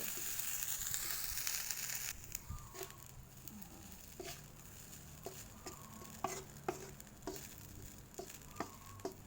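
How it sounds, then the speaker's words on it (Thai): Stir-frying in a home kitchen pan with the heat switched off: a hissing sizzle for the first two seconds, then a quieter stretch of repeated, irregular spatula scrapes and clicks against the pan, close up with no talking. "ผัดไปสักพัก"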